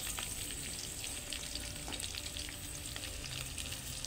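Onions fry in a pan for meatloaf, giving a steady, soft sizzle with light crackles and a couple of faint scrapes, quiet and continuous with no voices.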